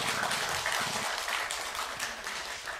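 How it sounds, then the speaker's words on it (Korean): Church congregation clapping together at a dawn worship service, a dense, steady applause that lasts throughout without a pause. "우리 격려와 축복의 박수 한번 해주시길 바랍니다."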